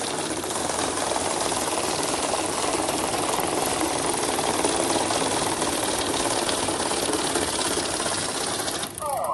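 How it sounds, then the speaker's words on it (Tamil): A cash counting machine runs banknotes through, producing a dense, continuous rapid whirring and flicking at close range that holds steady and stops abruptly near the end. "இந்த மாதிரி உங்களுக்கு எத்தனை தடவை போட்டாலும் அத்தனை தடவை நம்மளுக்கு கவுண்ட் பண்ணி 404 நோட் இருக்கு, 19750 ரூபாய் இருக்கு அப்படிங்கறத உங்களுக்கு சொல்லிடும்."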